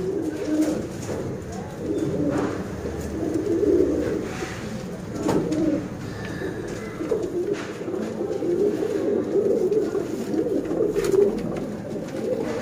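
Many pigeons at a sale coo continuously at close range in a dense, layered murmur that carries throughout, broken by occasional clicks and faint rustling.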